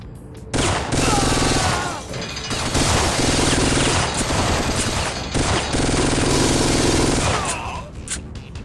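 G18 pistol gunfire in the Syphon Filter video game comes as loud rapid bursts of automatic fire, three long volleys separated by brief pauses.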